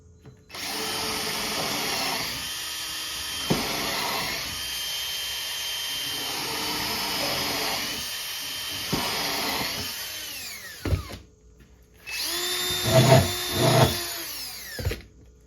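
A power drill drills into composite decking in long sustained bursts, whining loudly, then stops and restarts with a few shorter revving pulses near the end.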